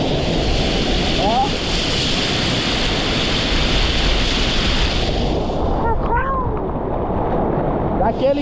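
Ocean waves during surfing at Farol da Barra in Bahia, Brazil, a loud continuous roar of surf mixed with heavy wind buffeting on the microphone, with brief voices calling out near the end.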